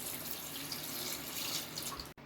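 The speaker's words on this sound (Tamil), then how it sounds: "தண்ணி ஊற்றிக்கலாம்." Water pours from a tap into a pressure cooker holding carrot, almonds, cashews and cardamom for kheer, a steady close splashing stream that cuts off abruptly at the end.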